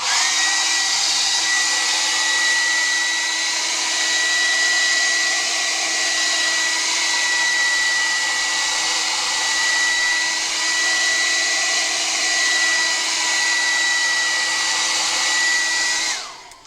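A hairdryer blows a steady, loud whir over freshly cleaned reeds from a Hohner Liliput harmonica being restored, running continuously with no talk before cutting off at the end.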